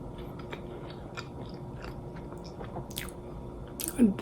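Someone chewing a pumpkin spice muffin topped with butter, close, soft, moist chewing and small crunchy bites repeating steadily throughout with no talk.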